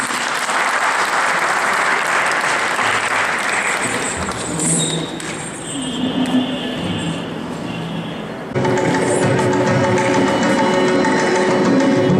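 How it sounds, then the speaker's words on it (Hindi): Loud, sustained applause from a large crowd, a dense continuous wash of clapping that surges near the end. "एक बार जोरदार तालियों से शुरू करते हैं."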